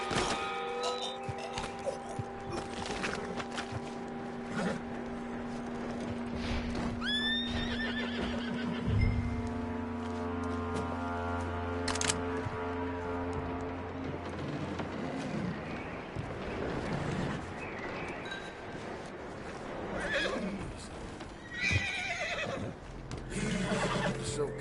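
A horse neighs and whinnies, then its hooves clip-clop in a Red Dead Redemption 2 game scene, with wind and other ambient game sounds filling the background throughout.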